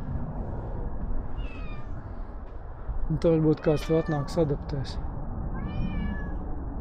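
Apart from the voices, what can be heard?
cat meowing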